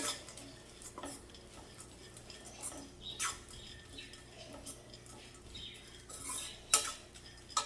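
Pumpkin seeds and coconut dry-roasting in a pan while being stirred, giving quiet, scattered scrapes and light clinks of a spoon against the metal, close but soft, with no talking.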